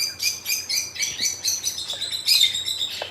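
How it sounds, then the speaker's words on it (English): Several small birds chirp and tweet loudly and rapidly, overlapping in quick bursts close by, with no voices. "My birds are so freaking loud."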